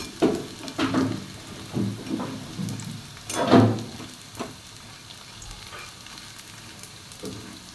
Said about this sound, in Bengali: এপিট ওপিট করে লাল করে একটু ভেজে নেব।